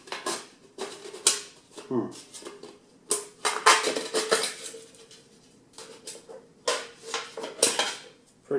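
A metal camping cook kit pot rattles and clanks while being handled, irregular bursts of clinks and scrapes with quiet pauses between them, close up, with a voice talking in between.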